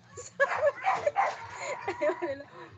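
A small dog yips and whimpers in a string of short, excited, jealous sounds, close by, with a person talking over it.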